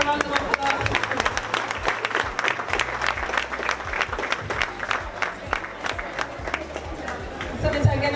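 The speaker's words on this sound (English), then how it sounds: "Let us give Senator a round of applause." A crowd applauds a senator at a school gathering, with sustained clapping for several seconds at moderate volume and chatter and voices mixed underneath.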